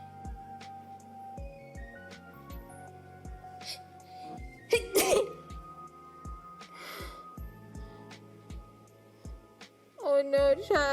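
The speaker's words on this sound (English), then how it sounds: "I have to sneeze." A person sneezes sharply once in the middle of a game stream, a loud burst over quiet game clicks and ticks, followed near the end by a noisy vocal outburst.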